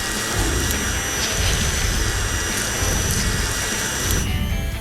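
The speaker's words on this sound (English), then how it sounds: "Now we need a mixer." An electric mixer whips a sugar and water marshmallow mixture, giving a loud, steady whirring motor drone that runs without a break and shifts slightly in pitch near the end.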